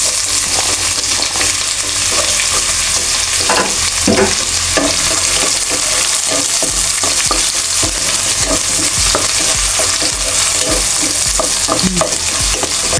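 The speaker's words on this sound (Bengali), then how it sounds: "আমি এখন কিছুটা পেঁয়াজ দিয়ে দেব।" Onions frying in hot oil with bay leaf, cardamom and cinnamon, a loud continuous sizzle close up, with a spatula scraping and stirring repeatedly across the pan throughout.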